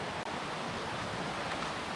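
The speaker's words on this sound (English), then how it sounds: "either way, it's a beautiful little river" A small jungle river in the Philippines flows steadily, a dense, even rush of water close by with no voices over it.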